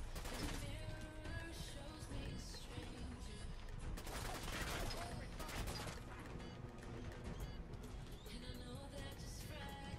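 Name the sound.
gunfire in the video game Fallout 4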